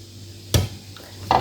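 Coconut cake batter stirred by hand in a bowl, with no blender, giving two brief, soft scraping knocks of the spoon against the side, otherwise quiet.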